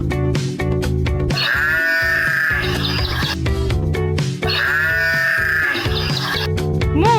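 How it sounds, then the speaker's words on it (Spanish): Sheep bleating loudly and close in two long wavering calls, each a drawn-out quavering cry, heard alone on a farm. "¿Y cómo hace la oveja?"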